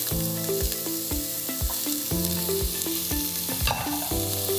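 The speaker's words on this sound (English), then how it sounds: "I still have a little oil left, so I'm now going to add my onions." Onions hit leftover oil in a pan over lowered heat for chicken cacciatore, giving a soft, steady sizzle broken by repeated knocks and scrapes of stirring.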